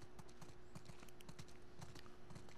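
Horse hooves clip-clop in a steady walking rhythm in The Last of Us Part II, quiet and even with a faint constant hum behind them and no talk.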